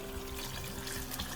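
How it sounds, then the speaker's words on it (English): Water is poured into a pot of ogbono soup, a soft, steady trickle and splash that is fairly quiet and brief, with no talking. "So I'm going to be adding water."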